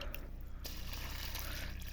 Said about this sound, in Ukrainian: зараз я буду лити воду